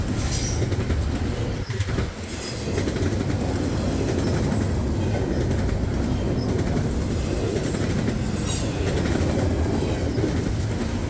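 A loud double-stack container freight train rumbles past close by, wheels clattering and squealing steadily throughout, with no voices.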